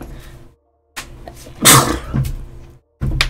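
A single sharp sneeze bursts out near the microphone, followed by a brief breathy sound, with short pauses of silence around it.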